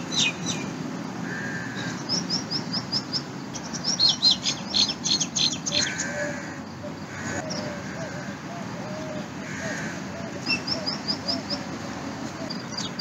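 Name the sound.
birds chirping in the morning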